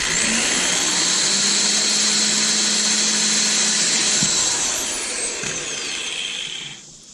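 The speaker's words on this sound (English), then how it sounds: "We'll have to drill these." A power drill whines loudly and continuously, drilling holes in Chevy Camaro side skirts, then winds down near the end as the motor slows and stops.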